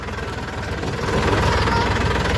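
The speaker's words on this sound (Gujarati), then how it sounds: "ટ્રેક્ટર આવીએ છીએ।" A tractor engine runs close by, a loud, continuous low throbbing chug with a steady rhythmic pulse that grows a little stronger midway.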